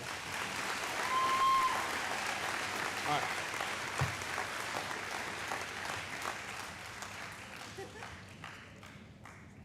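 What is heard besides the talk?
audience applause for a track team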